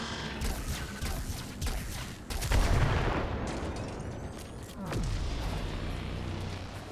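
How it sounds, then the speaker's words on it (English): Gunfire from a shotgun fired at ships in the video game Warframe: scattered blasts and booms with one heavy impact midway, set against layered game ambience and rumbling effects. "With this gun, I guess it is viable to just shoot these ships."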